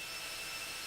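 A computer-controlled car's engine drones in The Long Drive video game, a steady, faint, hissing hum holding constant throughout with no talk over it.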